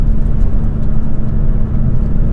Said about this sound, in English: It sounds pretty good as far as a Fiesta ST goes.